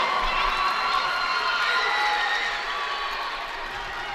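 Holy Cross fans in a high school basketball gym cheer after a three-pointer, a dense roar of shouting voices and whoops that stays loud, then eases slightly near the end.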